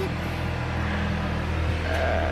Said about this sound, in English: Four-wheeler just drove by.